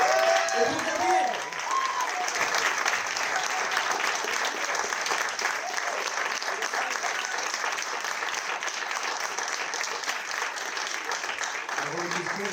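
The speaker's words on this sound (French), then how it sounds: "Je voudrais un tonnerre d'applaudissements, s'il vous plaît, pour Cédric, pour Mathilde, pour Alexis et" Audience applauds the actors at the close of a performance, a sustained, dense wash of clapping that holds steady from start to finish, with a few voices briefly audible at the start and end.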